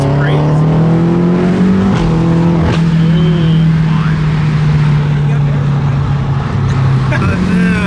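Someone's car idles loud and steady at a car meet, its engine drone constant throughout with brief rev swells, while people talk excitedly over it.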